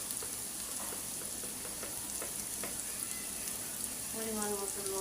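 Rohu fish sizzle steadily in a frying pan with spices, a continuous close crackling hiss with faint stirring, and no talk over it.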